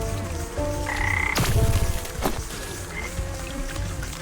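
Frogs croak in the Wytchwood video game, a few loud raspy calls standing alone over a soft watery ambience with a splashy burst in the middle.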